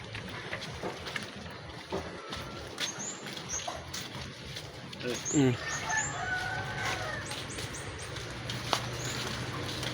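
A rooster crows and chickens cluck in the middle distance over outdoor background noise, with a brief dog bark and faint voices nearby.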